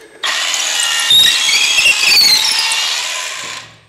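DeWalt DC-12 cordless hammer drill driving fasteners, one close, loud whining burst of several seconds with brief grinding chatter midway before the motor winds down.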